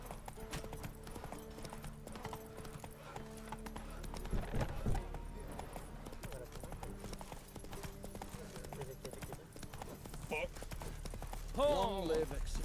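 Horse hooves clip-clopping at a steady galloping pace in The Witcher 3, Roach carrying the rider, with talk and game sounds layered over it and a brief whinny near the end.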